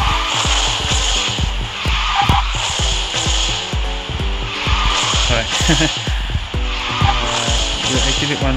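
Racing karts drift in the Garena Speed Drifters game, with continuous tire squeal and skidding over a steady engine drone and game music, loud and unbroken throughout.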